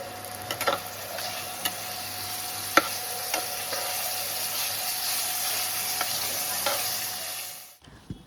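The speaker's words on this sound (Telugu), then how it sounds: "ఇవన్నీ కొంచెం ఫ్రై చేసుకుందాం. సో లో ఫ్లేమ్లో పెట్టుకొని ఫ్రై చేసుకోవాలి" Red chilli and curry leaves frying on a low flame for egg fried rice, a constant close sizzle with occasional spatula taps and scrapes against the pan, no talking, stopping abruptly near the end.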